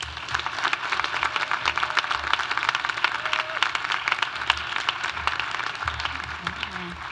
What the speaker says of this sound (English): Let's give the Asian Student Planning Committee a round of applause.